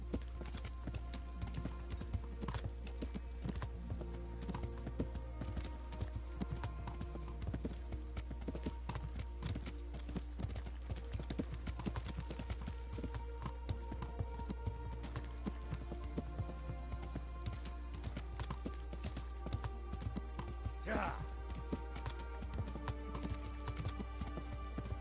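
Horses' hooves clip-clop steadily and continuously through a settlement in the medieval video game Kingdom Come: Deliverance, with a dense layer of ambient game sound and no talk over it.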